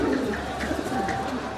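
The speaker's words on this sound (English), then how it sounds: "So this is a carrier pigeon, its base is here" A carrier pigeon in Egypt coos in soft, low, rolling calls repeated several times at close range over a steady background hum.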